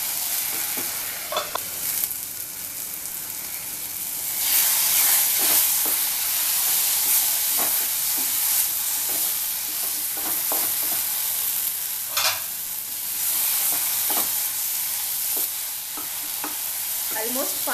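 Mushroom masala cooks in a pan with a steady, close sizzle, and a spoon scrapes and stirs through it every second or so.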